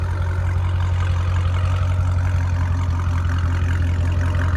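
A 2017 Dodge Challenger T/A with the 392 V8, mid-muffler removed and resonators kept, idles steadily nearby with a deep, constant low rumble and no talk over it.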